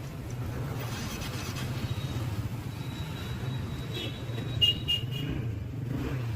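Steady idling engine of a motorcycle parked with its ignition on, a continuous low rumble throughout with brief clicks and a thin whine partway through, no clear speech.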